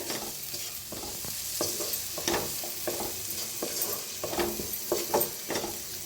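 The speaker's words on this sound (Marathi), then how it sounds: "आता मस्त असा म सगळा मसाला भाजून घेऊया" Garam masala, red chilli powder and other spices roasting in a pan for a potato and fenugreek dish, a soft continuous sizzle broken by frequent scraping strokes of a spoon stirring, close and fairly quiet, no talking.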